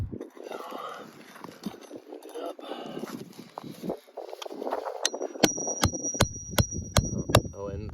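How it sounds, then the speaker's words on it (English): Hammer strikes on asphalt roof shingles as a nail is worked loose and pulled, about six sharp, evenly spaced metallic blows near the end, following a stretch of scraping and handling noise with a voice talking throughout. "Now I'm going to go ahead and identify that nail and pull that nail."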